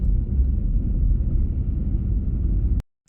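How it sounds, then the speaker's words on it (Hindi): Steady low rumble of a car rolling over a rough, stony road in a village where stones have fallen, loose stones thudding against the underside, continuous and close until it cuts off abruptly near the end. "गाड़ी के नीचे भी लग रहे हैं पत्थर यहाँ पर।"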